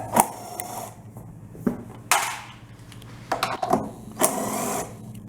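A plastic part comes off a Mikuni carburetor on a Subaru Robin or Kawasaki small engine with close, uneven scraping, clicking and rattling bursts, separated by short quieter gaps.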